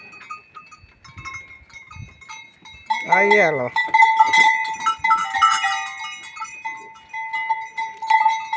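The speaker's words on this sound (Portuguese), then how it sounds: "Aqui, a cabra aqui. Bem pertinho aqui do portão." A goat bleats once, close by, near a farm gate: a short wavering cry in the middle of the clip, with a brief spoken remark and steady farmyard background around it.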